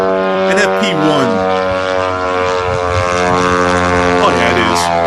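Ukrainian FP-1 propeller drone flying nearby, a loud sustained engine drone with a stack of steady harmonics that bend and waver as it maneuvers, with no voices over it.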